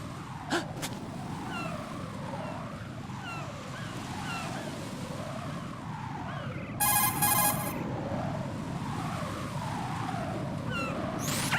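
A cell phone rings in Metal Gear Solid 2: Sons of Liberty, a bright electronic trill bursting for under a second over a wavering, warbling game background tone that runs throughout.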